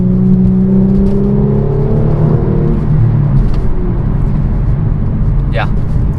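A 2016 Mercedes-Benz C450 AMG engine rumbles and revs up on a downshift blip, the pitch rising then easing off, loud and close inside the cabin with steady road noise underneath.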